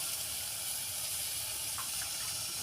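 Water runs and drips steadily from washed fenugreek leaves as they are squeezed by hand, a soft, continuous wet trickle and splash heard close up, with no talking.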